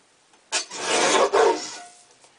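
Paper sheet trimmed to 8.5 by 11 inches with a crafting trimmer, one rasping slide of the blade lasting about a second, close and clear against a quiet background.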